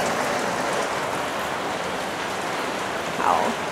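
Typhoon-season rain falls steadily in Hanoi, Vietnam, beside an outdoor garden, a dense, close, continuous patter on surfaces. A brief high chirp sounds near the end.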